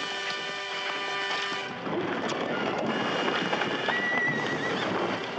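Horses whinny loudly over a busy background of hooves and commotion, with a long neigh early and more calls near the end.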